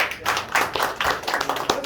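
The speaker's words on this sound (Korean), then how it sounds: "큰 박수 한 번 보내주십시오" Brief burst of applause from a group, dense overlapping hand claps at steady volume, fairly close.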